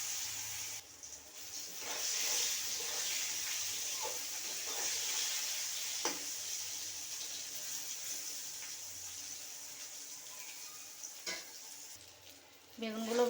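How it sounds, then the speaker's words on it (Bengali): Brinjal slices rubbed with turmeric and salt fry in hot oil in a pan, giving a steady, moderate sizzle with a few faint clinks and small shifts as the pieces settle. "এবার বেগুনগুলো ভেজে নেব।"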